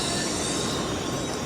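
A Shinkansen bullet train bound for Tokyo rushes along the tracks with a loud, unbroken roar and a high wheel squeal.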